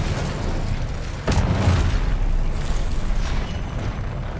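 Spell impacts erupt in Hogwarts Legacy as a loud booming blast hits about a third of the way in, followed by a sustained rumbling roar over a constant dense background of game sound.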